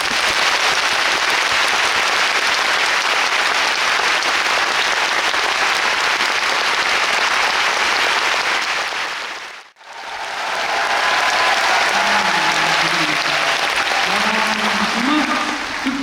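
An audience at a classical concert applauds for a tenor: dense, sustained clapping across a hall, dipping briefly before resuming, with a voice speaking over the later part.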